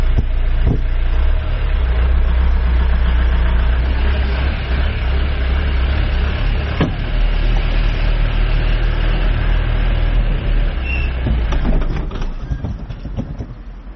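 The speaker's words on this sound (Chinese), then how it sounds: "我们将车从肇事车起步的地点出发，以正常的起步速度开到事发地点，再踩刹车" A car starting from standstill and driving a short distance before braking, heard as a loud continuous engine and road rumble from inside, with a few knocks, easing off toward the end as it slows.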